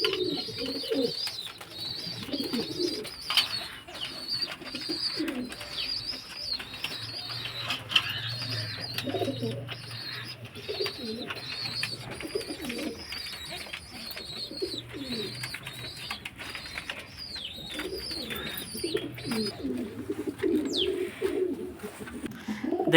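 Pigeons in a loft coo in repeated soft, throaty phrases near and far, with occasional wing flaps and rustling among the birds.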